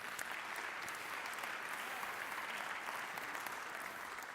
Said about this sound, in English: do give it a round of applause